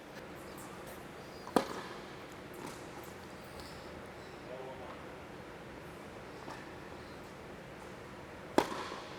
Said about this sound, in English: That's the sound of clean release through the ball